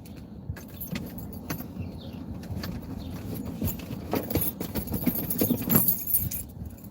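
Car keys being picked up inside a car, a brief metallic jangle over low engine rumble and cabin noise, with light rustling and no talk.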